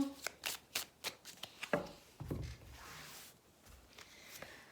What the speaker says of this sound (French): On procède tout de suite à votre tirage.